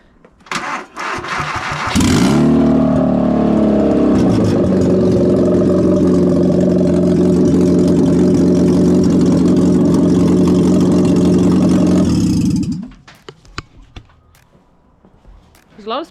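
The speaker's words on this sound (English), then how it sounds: "Car is running." A rebuilt racecar engine cranks briefly, then catches and runs loudly at a steady, slightly rough idle for about ten seconds before shutting off. Scattered handling noises come before and after.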